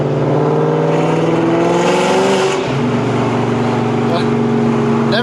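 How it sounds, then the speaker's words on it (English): A Terminator Cobra accelerates hard in third gear, its engine roaring loud and steady with rising pitch before a brief dip and continued pull, heard close and alone. "Let's do a quick little third gear romp right here,"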